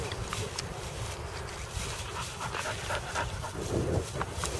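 A very energetic lab shepherd mix dog, over three years old, pants steadily on a leash outdoors, the quick breathing close and continuous with a little wind and background noise.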